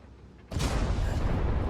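A tank gun shot in the World of Tanks video game, a single abrupt boom after a quiet start, followed by a rumbling low-end tail that lingers to the end.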